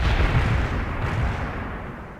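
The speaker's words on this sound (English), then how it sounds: "Activating grenade launcher," Grenade launcher fire in the real-time strategy game World in Conflict, a heavy booming burst with a rumbling tail that fades over about two seconds, loud and close with no talking.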